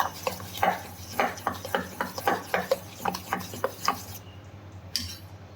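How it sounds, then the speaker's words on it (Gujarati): A vegetable snack mixture with capsicum is stirred in a pan, giving a steady rhythm of about a dozen close scraping strokes of a spoon against the pan, each a short rasp, with no talking. "આપણે આ સારી રીતે બધું જ મિક્સ કરી દેવાનું છે અને હલાવી લેવાનું છે એક જ દિશામાં હલાવવાનું છે"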